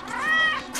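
A cat named Crookshanks gives one drawn-out meow, close and fairly loud, rising and falling in pitch over a fraction of a second, alone with no voices.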